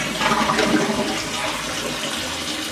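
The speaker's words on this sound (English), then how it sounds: "So we're going to flush the toilet." A Kohler toilet with a freshly replaced canister flush valve seal flushes close by, a loud roaring rush of water that swirls and drains steadily for a few seconds.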